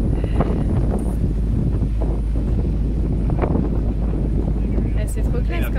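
Strong wind buffets a sailboat under engine, pushing into headwind and opposing current on the open water, a steady loud roar of gusts and rumble throughout, with voices talking over it.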